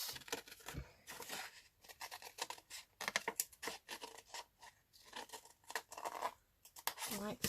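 Scissors snip and cut around a paper shape for a craft pocket project, giving crisp repeated cutting strokes and rustling paper, close and fairly loud, with soft talking mixed in at points.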